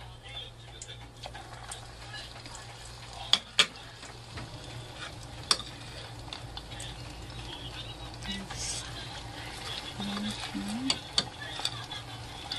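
Chicken breast balls frying in oil, a steady soft sizzle with a low hum, broken by a few sharp clicks and utensil taps, under intermittent talk.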